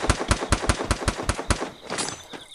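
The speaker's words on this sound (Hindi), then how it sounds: "गोलियाँ चल रही हैं इधर" Gunfire in the mobile battle-royale game Free Fire: a steady burst of about nine sharp, evenly spaced shots over a second and a half, followed by fainter, more distant shooting.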